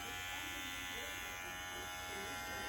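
A Caliber hair clipper runs steadily with a constant, even electric buzz and hum, close and unbroken throughout.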